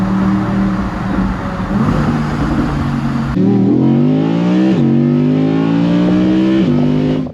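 A 2022 Audi R8 V10 Plus Spyder's engine roars loudly and steadily, holding a rumbling idle-like tone before rising in pitch through several revving pulls, close and unbroken with no talking.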